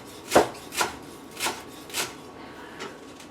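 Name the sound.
chopping onions with a knife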